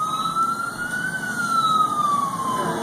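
A sheriff's vehicle siren wails steadily during a pursuit, one loud continuous tone rising and falling slowly over a constant road hum.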